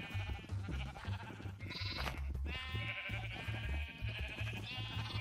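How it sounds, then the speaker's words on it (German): Several Minecraft sheep bleat in overlapping, wavering calls over a low, rhythmic background thump, a crowded pen of animals heard up close with no one talking. "Das sind vielleicht ein paar zu viele Schafe"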